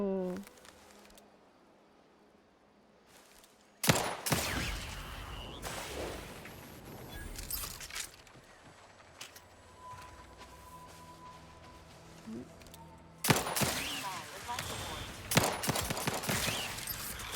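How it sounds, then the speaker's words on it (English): Gunfire aimed at the player in Outer Worlds 2: sudden loud bursts of shots around the four-second mark and again near thirteen to fifteen seconds, separated by a quieter stretch of ambient game sound. "Who is shooting at me?"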